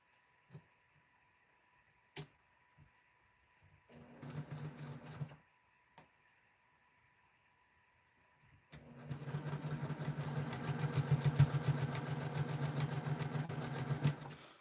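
A sewing machine chain piecing quilt blocks one after another, with a short burst of stitching and a few clicks, then a longer steady whirring run close by.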